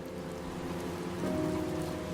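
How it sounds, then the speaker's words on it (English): Steady rain falls in a dense, even patter during a storm at night, with a low sustained hum underneath that swells slightly partway through; no voices. "Once again, you're left alone with the sound of the rain."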